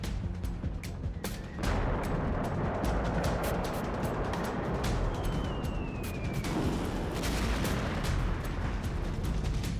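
A missile strike on a Russian warship sets off a huge explosion. A dense, continuous roar of blasts and booming rumble runs for about ten seconds, punctuated by sharp cracks and with no speech.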